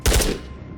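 A rifle shot in the video game Ghosts of Tabor, a single sharp loud blast with a booming low tail that rings out and decays over most of a second.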